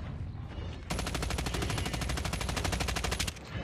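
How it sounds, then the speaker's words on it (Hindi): Automatic weapon fire in the mobile shooter Call of Duty Mobile, Last Zone mode: a loud, rapid, sustained burst of about two and a half seconds that starts abruptly and stops sharply, with no talking. "मैं यहाँ पे सारी एमो वेस्ट कर देता हूँ राक्षस को मारने के लिए"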